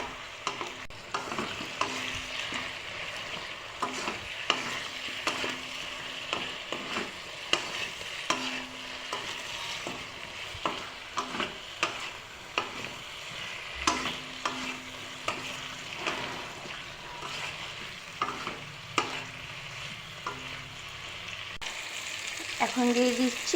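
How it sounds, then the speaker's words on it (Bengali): Eggplant stirs in a pan with tomatoes, salt and turmeric, a constant soft sizzle punctuated by frequent scraping and clinking strokes of a spoon, moderately close, with a brief low hum recurring in the background. "এখন একটু নুন আর হলুদ দিয়ে নাড়াচাড়া করে নিচ্ছি।"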